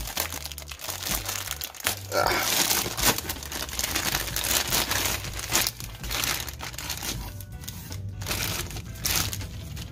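Stiff plastic wrap and cardboard packaging of a PlayStation Classic console crinkle and crunch close up in a steady, busy stream of rustling and tearing, with faint sporadic talk underneath.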